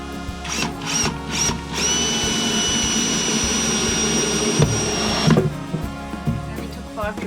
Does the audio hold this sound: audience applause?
no